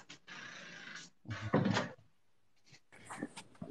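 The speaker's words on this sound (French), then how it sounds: "il y a la porte qui grince" An indoor wooden door creaks and knocks in a few separate bursts, close and fairly loud, with short quiet gaps between the movements.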